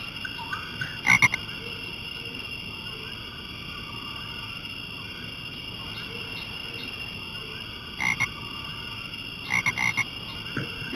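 A frog croaks in the jungle of the Amerzone video game, three short clustered croak bursts spaced apart over a constant high chorus of crickets and insects.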